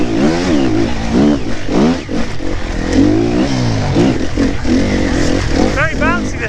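A new dirt bike's engine revs loudly and close, its pitch climbing and falling in repeated bursts, while a voice speaks over it.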